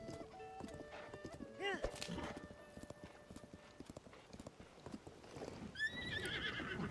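Horse hooves clip-clop steadily with a couple of neighs in the Zelda: Tears of the Kingdom video game near Wetland Stable, layered with game music and effects while a person talks over it.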